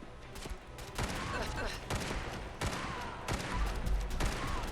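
Trail carbine from the F4NV mod for Fallout 4, fired in repeated sharp bursts, several shots in quick succession separated by short pauses, loud and close, with faint talk underneath.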